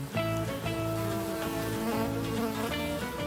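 Steady, loud buzzing of bees with a wavering insect drone that shifts pitch now and then, continuous throughout with no voices.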